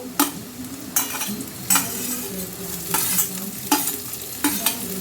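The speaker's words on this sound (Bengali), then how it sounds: "আর রসুন কুচিগুলো দিয়ে দিচ্ছে আদা কুচি আর লঙ্কা কুচিগুলো দিয়ে দেবে" Chopped garlic, ginger and green chili fry in a pan for a tadka dal: a steady, close sizzle punctuated by regular spatula scrapes roughly every second.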